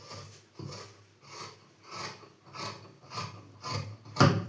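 Scissors cut the front panel of a uniform coat from fabric, about a quarter inch in around the armhole. Close, rhythmic rasping snips come roughly every half second and grow louder toward the end.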